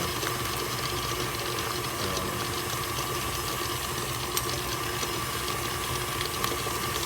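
A stand mixer runs with batter while egg yolks are added, a steady mechanical whir with a continuous rattling hum and occasional faint clicks, close and constant throughout.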